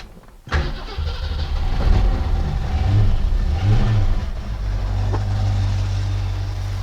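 A 1967-68 Mercury Cougar engine cranks briefly and catches, then settles into a steady, loud, rumbling idle that swells slightly before evening out, close by with no talking.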